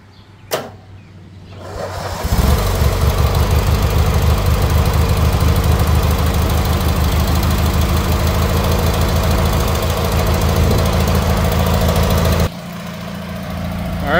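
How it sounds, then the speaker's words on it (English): A 1983 John Deere 116 lawn tractor engine cranks and catches, then runs at a steady loud idle with a rough knocking pulse for about ten seconds before the pitch drops as it changes speed. "See if it'll start back up first."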